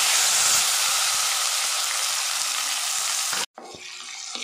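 Chopped onion and tomato fry in hot oil in a pan for an egg green masala, a loud, steady, close sizzle and hiss that cuts out abruptly for a moment before resuming.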